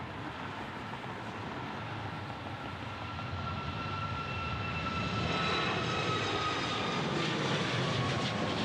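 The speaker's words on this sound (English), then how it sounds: "Got a departure here, Southwest Airlines MAX 8." A Southwest Airlines Boeing 737 MAX 8 departs Dallas Love Field, its jet engines giving a broad, loud roar with a rising whine that swells steadily as it passes, heard from outdoors with no talk.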